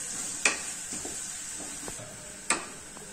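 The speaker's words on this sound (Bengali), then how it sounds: "যতক্ষণ না পেঁয়াজটা গলে যাচ্ছে আমাদের কিন্তু নাড়তে হবে।" Onions with salt sizzle in a pan for chicken curry, a constant bright hiss punctuated by two sharp spatula knocks and softer stirring scrapes, close by and without speech.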